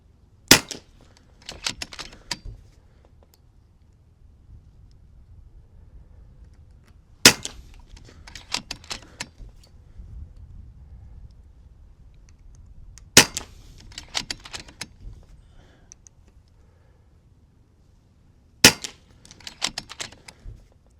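An FX M3 air rifle with an LW barrel fires at targets outdoors: four sharp, loud cracks spaced several seconds apart, each followed by a quick cluster of clicks and clatter, with quiet wind between shots.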